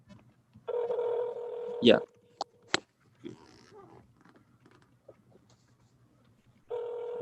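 A phone call's outgoing ringback tone sounds twice, a steady buzzing ring near the start and another at the end, separated by a quiet gap with a few clicks and a short spoken word.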